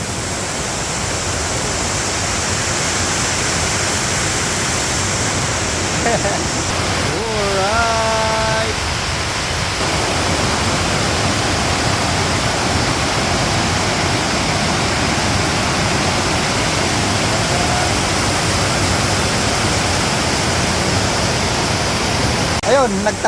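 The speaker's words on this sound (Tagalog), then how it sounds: "Nakaka-relax yung ano, agos ng tubig." Steady, loud rush of Sangbay Falls in Pugo, La Union, pouring continuously, with a brief voice heard partway through.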